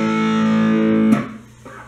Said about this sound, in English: In the intro we've got the main riff of the chorus as well,